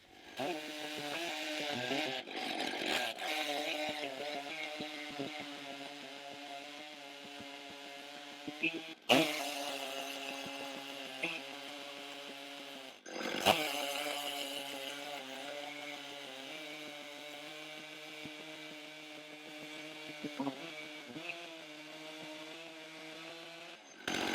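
A chainsaw mill takes a thin straightening pass through a log outdoors on a windless day. The engine drones steadily and close, with its pitch shifting slightly under load and brief sharp knocks breaking in now and then.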